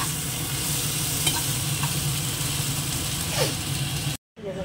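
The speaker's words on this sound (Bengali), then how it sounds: "পেঁয়াজটা ভাজা হয়ে যায়" Onion sizzling steadily in hot oil in a home kitchen pan, a close, continuous crackle with a few stirring scrapes, cutting off abruptly near the end.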